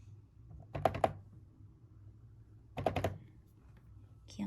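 Keys clack on a BT21 wireless retro keyboard set in front of a laptop, two short bursts of several quick, crisp clicks separated by a quiet pause, close and clear.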